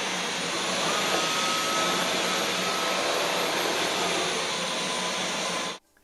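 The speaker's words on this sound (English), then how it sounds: "you can hear the motor increase the suction when it encounters dirt" A Dyson V12 Detect Slim cordless vacuum motor whirs loudly and steadily at a high pitch for several seconds, then cuts off abruptly.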